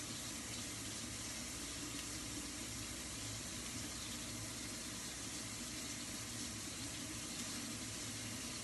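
Tap water runs steadily into a sink while herbs are rinsed for a Haitian-style marinade, a continuous close hiss with no talking.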